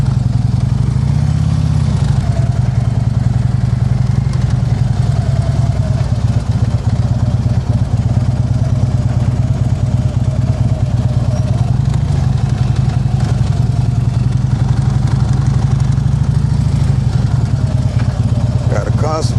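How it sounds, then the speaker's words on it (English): A motorcycle engine idles and burbles steadily at low speed through slow roll practice, a close, continuous low rumble with small throttle changes running the whole way. "Keeping that bike steady, giving it the throttle when need be."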